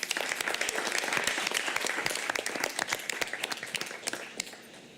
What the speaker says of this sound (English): how about another round of applause for our amazing retirees?